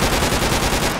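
Heavy machine gun fire in the jungle combat game Project Reality, a dense, loud, continuous stream of rapid shots that fills the whole moment without pause.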